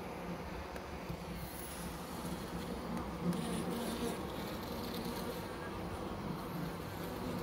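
Honeybees buzz at a hive, a dense, steady hum of many wings close by, continuous and unbroken throughout with no voices.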